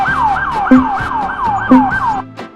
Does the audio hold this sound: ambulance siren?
yes